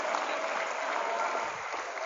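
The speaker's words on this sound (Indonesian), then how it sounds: "Tepuk tangan untuk yang sudah tampil hari ini." An audience at a motivational seminar at Darul Qiyam Gontor Campus 5 in Magelang applauds today's performers, a dense continuous wash of clapping that stays even and full throughout.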